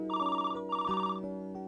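A telephone rings in a home with two electronic warbling ring bursts, the second cut short as the handset is picked up; close and clear with no talk.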